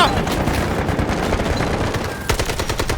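Sustained rapid AK rifle fire in the Delta Force video game, a dense unbroken automatic stream with a sharp fresh burst near the end, loud and close with no pauses.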